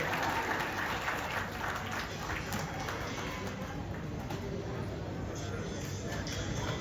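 An audience claps steadily for a dance performance at a community cultural gathering and felicitation function in Mumbai. The applause forms a dense, even wash throughout, with voices faintly mixed in.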